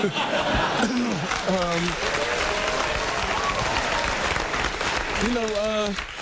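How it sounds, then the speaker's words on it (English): A talk show studio audience applauds and cheers throughout, with laughter and whoops rising over the clapping and voices talking amid the noise. "Why is the crowd cheering at that?"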